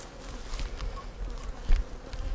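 Honeybees buzz steadily around an open double deep beehive during a spring brood inspection and split, a dense close hum with individual bees passing near.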